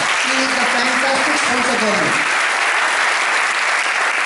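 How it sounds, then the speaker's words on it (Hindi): A hall audience breaks into loud, sustained applause for a company's top distributor in India, dense clapping filling the space while a voice speaks over the first two seconds. "उनके लिए एक बार जोरदार तालियां चाहूंगा"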